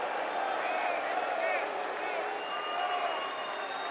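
Packed arena crowd applauding and murmuring in a continuous, even roar of claps and voices, with a person talking over the noise.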